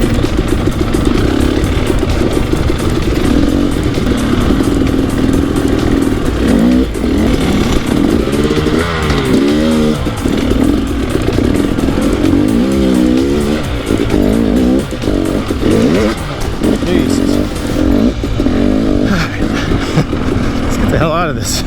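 KTM 300 XCW two-stroke and 500 EXC-F four-stroke dirt bikes ride off-road on loose terrain, engines revving and rising and falling in pitch close by, loud and continuous, with a rider's voice talking at times.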